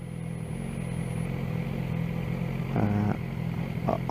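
A BMW S1000R motorcycle engine drones steadily from the rider's position on a spring commute, a low continuous hum with a brief louder surge near the end.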